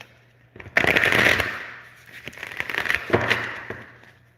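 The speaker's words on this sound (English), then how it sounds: "Let me just shuffle these really quick." Tarot cards being shuffled by hand, two quick riffling bursts close to the microphone, the first louder and longer, the second softer, over a faint low hum.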